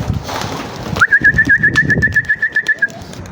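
Racing pigeons at a rooftop loft give a run of about a dozen evenly spaced, pulsing coos, close and clear above a low murmur of background noise.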